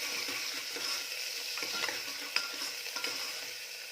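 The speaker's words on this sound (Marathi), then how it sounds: "कांदा छान रंग बदलेपर्यंत भाजून घ्यायचा आहे" Finely chopped onion with a little salt fries in a pan, a close crackling sizzle broken by scraping stirs and a few sharp ticks, with no music or talking.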